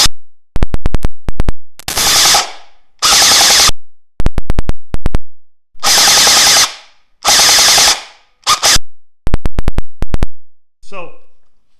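A Gen9 M4A1 gel ball blaster toy running on an 11.1 V battery fires loud, close bursts of rapid shots, quick volleys alternating with longer sustained strings, each burst cutting off sharply into silence.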